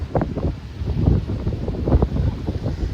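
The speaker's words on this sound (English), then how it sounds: "I'm sure you can hear that wind as I'm walking right into it." Strong wind buffets the microphone while walking into it beside a choppy inlet, producing loud, uneven low rumbling gusts throughout with no talk.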